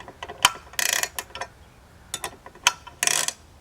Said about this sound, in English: Begin by loosening 3/8 hex nuts